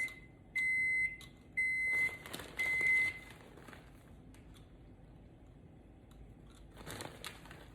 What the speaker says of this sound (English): that's my alarm saying that the oven is ready